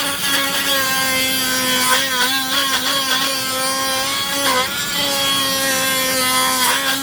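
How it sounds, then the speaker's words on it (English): A Dremel rotary tool carves a purple heart wood ring with a steady, high-pitched whine that dips briefly in pitch as the bit bites into the wood, loud and close with no voices. "I'm addicted to Dremel carving."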